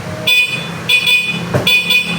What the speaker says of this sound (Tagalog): ito yung busina